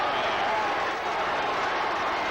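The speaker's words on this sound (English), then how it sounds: "Listen to that crowd." A football crowd cheering at the ground, a broad continuous roar from a large stadium audience, loud and steady through the whole moment with no distinct voices standing out.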